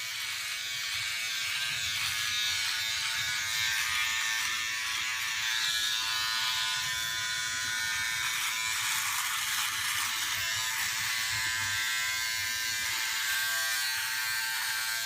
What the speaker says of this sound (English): And I can do some trimming if I want with one blade.